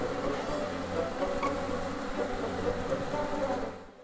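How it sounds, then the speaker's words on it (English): Wasps droning around a wasp nest in Bee Simulator, a dense, continuous buzzing swarm at steady loudness that fades out at the end. "Oh no! A wasp nest!"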